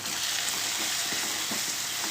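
Spices and coriander powder fry in a pan with a steady, close hiss and crackle. Faint scraping stir sounds come through now and then, and no voices are heard.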